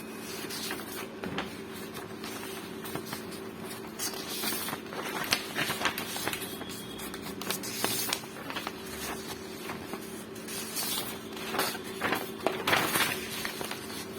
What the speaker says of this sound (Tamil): இப்போ நான் இந்த பேஜை வந்து நான் வந்து ஜெராக்ஸ் எடுக்கிறேன்